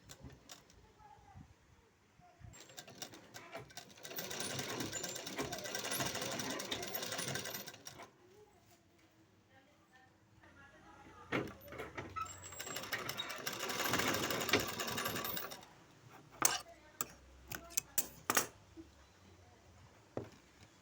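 Sewing machine stitching two layers of blouse cloth along a seam, running in two long steady bursts separated by a pause, then a few short clicking stops at the end.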